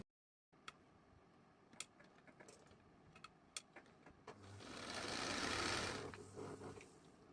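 A sewing machine stitches the sleeve hem of a simple ladies' kurti, starting with scattered ticks and clicks, then building into a steady, fairly loud whirring run before slowing near the end. No one speaks.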